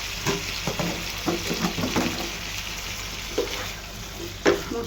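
Taro pieces fry with salt and spices in a pan, giving a continuous dense sizzle with a few soft knocks and scrapes of stirring, close and steady without speech.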